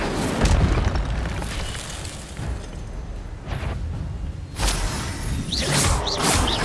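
An Incendio fire spell bursts in Hogwarts Legacy, a loud booming explosion with whooshing flame repeated in several heavy bursts over a steady roaring background, no voices.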